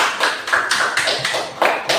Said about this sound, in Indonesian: terima kasih semua, tepuk tangan dulu.